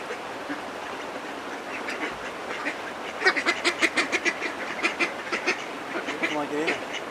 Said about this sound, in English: The ducks like it.